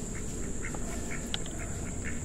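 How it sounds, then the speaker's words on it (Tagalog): Several ducks quack in short, repeated bursts at a moderate distance over a steady background hiss, at night in an abandoned resort in Cavite. "Ito may mga pato pa dito."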